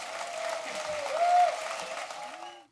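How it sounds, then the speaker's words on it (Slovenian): Brief burst of audience applause for politicians from the Social Democrats and the Left, a short dense patter of clapping at moderate loudness that cuts off abruptly. "Evo en močen aplavz za Tanjo iz Socialnih demokratov in Asto iz Levice."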